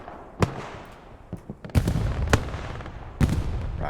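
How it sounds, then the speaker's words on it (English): A rocket fires during an 18-versus-18 video game battle, heard as a few sharp, loud blasts and cracks over a steady background of distant gunfire and explosions. "Rocket's flying"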